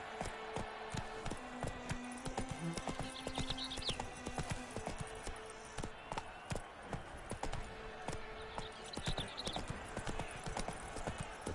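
Roach, a horse in the video game The Witcher 3, runs at a quick, steady rhythm, sharp hoof clip-clops close and continuous over a faint ambient bed, with a brief whinny-like tone early on.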